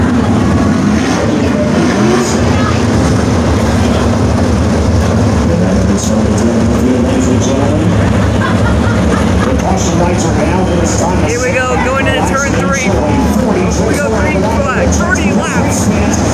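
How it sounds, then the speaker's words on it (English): Winged sprint cars race at Lucas Oil Speedway, a dense, loud, continuous engine roar filling the track with overlapping passes, while an announcer's voice carries over it. "We go green flag racing at Lucas Oil Speedway."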